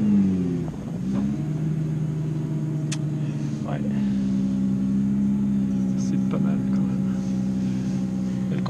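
A 2018 Nissan GT-R Nismo, a 600-horsepower sports car, starts up and settles into a steady, low engine drone that holds evenly throughout, heard close from inside the cabin with a few faint clicks over it.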